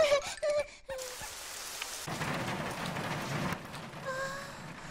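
Rain patters steadily on a surface, a continuous hiss with scattered drops, preceded by a few short bright noises at the start.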